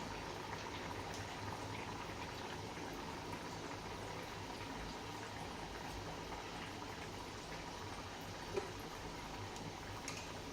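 Small sabudana vadas, thick rather than thin, frying in hot oil, giving a steady, even bubbling sizzle that runs unbroken throughout with no talking.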